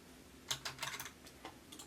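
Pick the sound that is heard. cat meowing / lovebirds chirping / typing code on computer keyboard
typing code on computer keyboard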